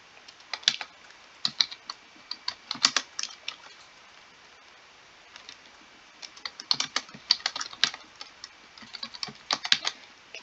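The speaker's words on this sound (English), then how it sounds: "Now read the console while I type this." Typing on a computer keyboard, with bursts of quick, close key clicks separated by short pauses, steady and fairly crisp, with no voices.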